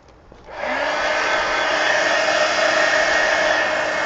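A hair dryer switches on after a brief quiet moment and blows steadily, drying paint on an altered book page in a mixed media project; the whirring airflow stays close and even to the end.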